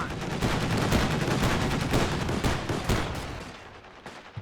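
Machine gun and anti-tank gun fire in the Company of Heroes 2 strategy video game, a dense, loud stretch of rapid overlapping shots that thins out toward the end.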